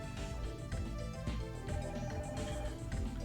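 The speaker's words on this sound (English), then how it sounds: "The phone is ringing." A telephone rings in The Silver Case video game, a steady repeating electronic ring that runs throughout, layered over dense game music at moderate loudness.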